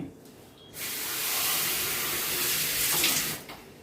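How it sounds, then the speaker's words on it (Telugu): Water poured into a cooking pot of boiling gongura greens, a loud steady splashing hiss lasting about three seconds, then cutting off. "కొంచెం వాటర్ పోసుకుని"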